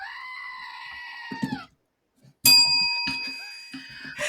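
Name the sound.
screaming goat sound effect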